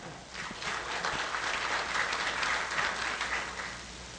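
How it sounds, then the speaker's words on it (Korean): Steady audience applause fills a forum panel session at a 2013 CEO knowledge forum, many hands clapping close and dense, holding an even level throughout with no talk. "박수 주세요"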